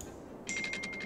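A mobile phone ringtone starts about halfway through, a quick run of bright, evenly pulsed electronic tones with a steady high note under them. It comes in over quiet background noise during a Cities: Skylines gaming session, and nobody speaks.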